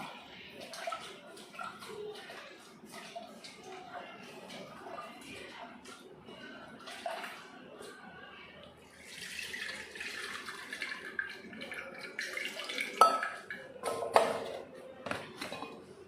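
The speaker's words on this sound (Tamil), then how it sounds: "அதுக்கு முதல்ல புளியை கரைச்சி ஊற்றிக்கிடுவோம்" Tamarind water is mixed by hand and poured into a clay fish pot, soft splashing and trickling at first, growing into a louder, fuller pour later on, close by and with no talk.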